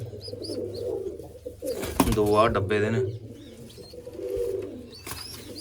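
Pigeons perched on a rooftop coop umbrella give repeated throaty coos, loudest in the middle, while someone speaks briefly nearby. Light chirps come and go at the start and the end.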